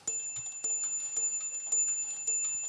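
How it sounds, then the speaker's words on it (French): An antique French chamber clock strikes with a fine, light bell tone, five evenly spaced chimes ringing clearly and alone, each one decaying into a soft metallic shimmer. "Sur cette pendule-là, où elle va être vraiment minime, mais elle va sonner assez rapidement"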